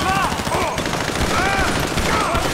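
Rapid gunfire in GTA V, a dense stream of shots mixed with music and game effects, steady and loud across the moment.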